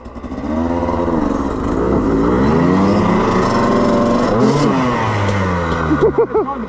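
A motorcycle engine revs on a muddy green lane near Kingsbridge, a loud close droning rise and fall of throttle that climbs, holds and then sputters in quick blips at the end.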